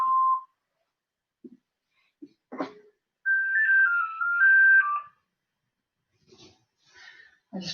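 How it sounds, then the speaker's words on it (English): A mobile phone rings during an indoor exercise class, giving a short tone, then a bright melodic ringtone phrase of a few warbling notes, loud and close, with brief small sounds and a faint voice around it. "Sorry, it's my phone."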